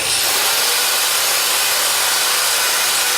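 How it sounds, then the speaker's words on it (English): A wire wheel roughs up a surface before priming, giving a loud, continuous, close-up abrasive whir and hiss that stays even from start to finish. "we're going to take a wire wheel"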